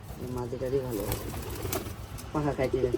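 Pigeons coo in repeated throaty bursts close by, a short run near the start and another toward the end, while people talk over them during handling of the birds at a home loft.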